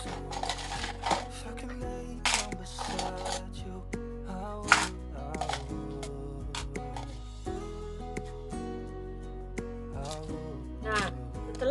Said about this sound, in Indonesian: langkah pertama itu kita masukkan es batu tiap masing-masing gelas